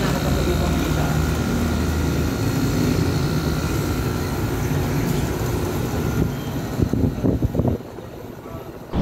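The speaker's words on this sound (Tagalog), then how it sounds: "Ayan, gumagana na rin yung compressor natin." An air conditioner unit with a defective capacitor runs its compressor and fan on high cool. It gives a loud, steady whirring drone that thins out near the end, with a few knocks and rattles.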